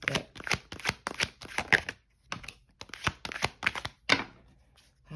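A tarot card deck is shuffled in rapid riffling bursts with brief pauses between them, close up and fairly loud, with no talking.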